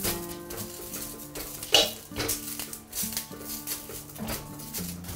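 Green chili peppers, including small bird's-eye chilies, pan-frying on low heat in a dry pan with no oil or salt, a soft steady sizzle with scraping of a spatula and light clinks against the pan, close and without talk.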